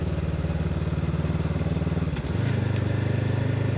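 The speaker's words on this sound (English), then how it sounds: "I'm relying more on engine braking, barely touching the front brakes." A motorcycle engine-brakes down a steep, wet downhill pass on Hardknott Pass, a loud, close, steady low drone that briefly dips and then settles back into a throbbing idle-like beat.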